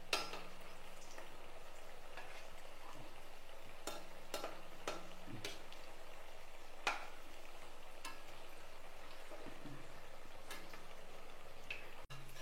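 Peanut vadas fry gently in a pan of oil, a soft steady sizzle with scattered faint ticks and pops, quiet and close, with no talk.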